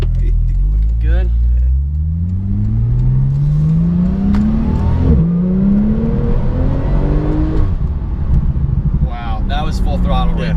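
A 2016 Porsche 911 Turbo S accelerates at full throttle, its loud engine note climbing steadily through rising gear pulls, with brief dips at each shift, close up from inside the car while voices talk over it.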